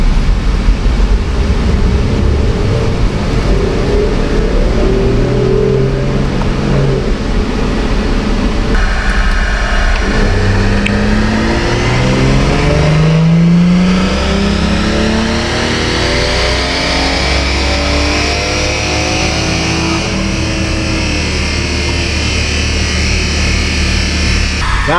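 A car engine revs hard on a dyno during a custom tuning run, loud and near, climbing through rising pitch sweeps with gear-like steps over a sustained roar for the whole stretch.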